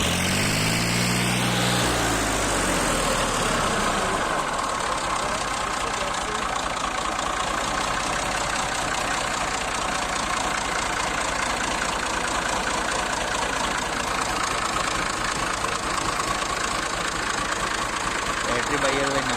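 A 2002 Massey Ferguson 240 tractor engine idles steadily and loudly up close. A brief shifting tone comes at the start, then an even, unbroken diesel rumble continues throughout.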